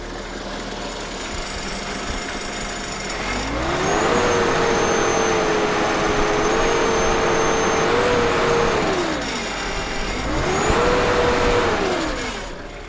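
A remanufactured engine in a Bobcat T190 skid steer revs up twice, its turbo spooling with a high whistle. Each rise holds briefly before dropping back to idle, loud and close, with no talk.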